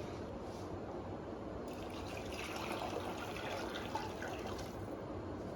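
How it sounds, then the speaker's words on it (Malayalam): Lukewarm water pours into a pot of roasted rice for Yemeni mandi, giving a continuous soft gushing and trickling wash that stays steady and fairly quiet throughout. "ഇളം ചൂടുവെള്ളം ഒഴിക്കുക."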